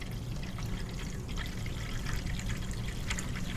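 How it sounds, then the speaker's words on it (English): Chlorine-free filtered water pours steadily into a small container holding a tadpole, a continuous splashing trickle heard up close on its own for a few seconds. "I'm gonna go ahead and put some pure water in here"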